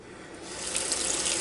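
Cold tap water running into a kitchen sink around a pot, a brief steady splashing rush, close and growing slightly louder.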